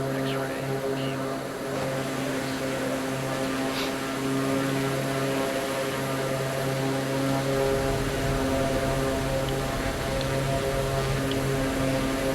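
A propeller aircraft engine in a flight simulator over Gippsland, Victoria, Australia drones steadily with a constant harmonic hum, rising slightly in power toward the end, loud and continuous with no talk over it.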